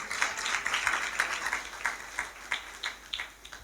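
Congregation applauding inside a church during a New Year celebration service, a scattered run of sharp claps that thins into separate bursts, moderately distant and fairly faint, with no talk over it.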